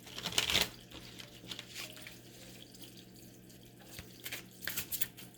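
Tarot cards being shuffled by hand for a reading, a couple of quick riffling bursts with softer card handling in between, close and fairly quiet.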